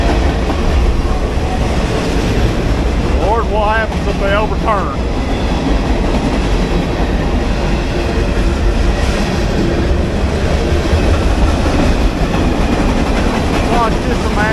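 A freight train hauling tanker cars rolls past an abandoned railway station, loud and close, with constant rumbling and clacking wheels and brief squeals; someone speaks over it.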